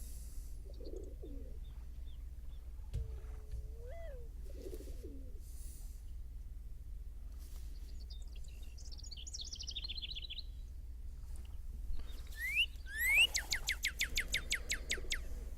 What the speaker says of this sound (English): Love that morning dove sound.